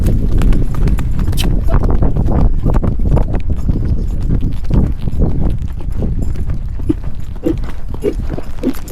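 Several horses' hooves clip-clop steadily and loudly through a group ride, a continuous rhythmic clatter of close footfalls with a little background noise throughout.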